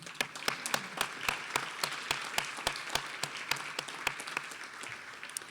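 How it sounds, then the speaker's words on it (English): Applause from a modest audience at a fundraising breakfast, with distinct individual claps standing out in a steady, moderately quiet patter. "Please give them a round of applause."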